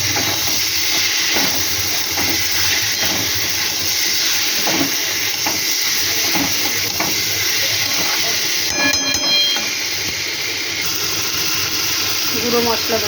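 Chopped tomatoes, two cut tomatoes, hit a hot pan for a potato and eggplant dish with dried fish, giving a steady broadband sizzle and hiss that runs loud and continuous, with a few brief clatters partway through.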